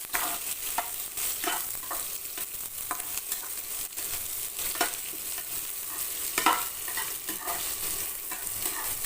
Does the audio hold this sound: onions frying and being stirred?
yes